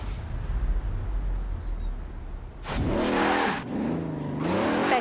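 A 2017 Bentley Continental Supersport in Forza Horizon 4 roars to life after a quiet stretch, its engine revving hard and climbing through gears, loud and close with a brief squeal of tires.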